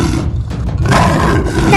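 A cartoon lion lets out a loud, close roar that swells in two surges over a couple of seconds, harsh and growling, with no talking around it.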